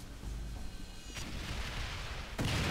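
A rumbling explosion from the video game X-Men Origins: Wolverine, a low sustained roar that ends in a fresh heavy blast, heard faintly in the game mix with no talk.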